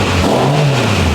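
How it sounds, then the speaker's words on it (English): A Honda Civic Type R engine revs loudly during a cold start, a brief rough rising and falling drone close by. "That was a nice cold start for the boys."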